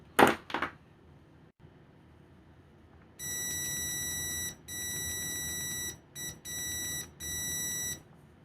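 A Proskit MT1217 multimeter's continuity beeper sounds in several loud, sustained high beeps with short gaps, preceded by a few faint clicks of the probes.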